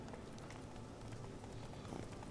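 Roach, a horse in the Witcher 3 video game, gallops with a steady, busy run of hoofbeats under dense game sound, continuous and moderately loud throughout.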